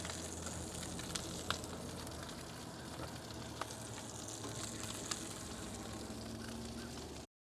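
Meat sizzles steadily in grease in a cast iron pan, a dense continuous crackle with a few sharper pops throughout, close and even in level.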